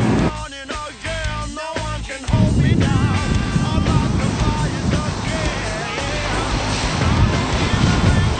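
Steady rushing wash of sea water and wind noise against the microphone on an Atlantic sailing passage from Spain to the Azores, continuous and fairly loud, with some brief faint voice-like sounds early on.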